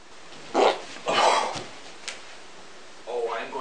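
A dog gives a few sharp barks followed by a softer whimpering whine, close and moderately loud, with stretches of quiet between them.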